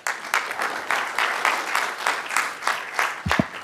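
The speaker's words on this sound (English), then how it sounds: "another round of applause" Scattered audience clapping fills a city council meeting room, a modest round of applause with audible individual claps, fairly soft and rhythmic, ending with a couple of low thumps.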